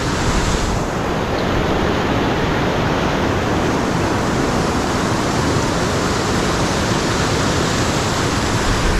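Loud, continuous roar of a rushing river in the Zanskar Himalaya of Ladakh, steady and close with no breaks or voices.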